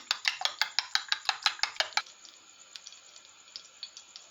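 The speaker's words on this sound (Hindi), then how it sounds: "डालने के बाद हम इसे फेंट लेंगे" Egg mixture with chilli and salt being beaten briskly in a bowl for an egg shami burger, a fast run of about a dozen rhythmic clinks of utensil on dish, then softer scattered taps as the whisking slows.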